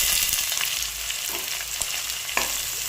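Green chillies and onions fry in hot oil in a steady sizzle, with occasional stirring clicks and scrapes, moderately quiet and close with no speech over it.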